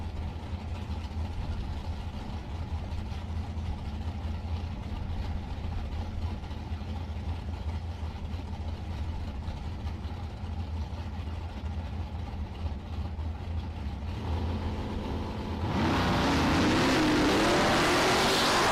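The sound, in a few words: dragster engine at drag strip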